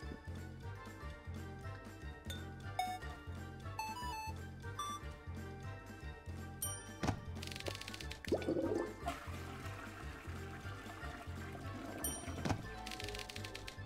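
A toilet flushes in the Taskmaster VR video game, with short watery rushes under steady, looping background music.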